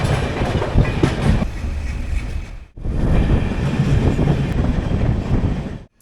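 The Kriya Yoga Express passenger train rumbles loudly on departure, heard from inside the carriage: continuous low roar and rattling wheel noise with a brief dropout midway before the din resumes.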